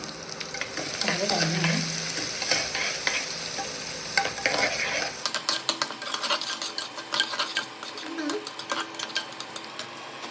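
Masala for North Karnataka pulao fries in a pan with a continuous hiss. A spoon stirs through it with quick, close metallic scrapes that turn busier and choppier in the second half, and a voice murmurs faintly early on.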